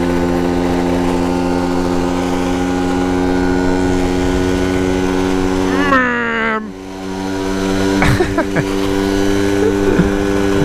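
A tuned moped climbs uphill with its small engine droning loudly and steadily, then abruptly drops in pitch and sputters before picking up again, with a rider talking briefly over it.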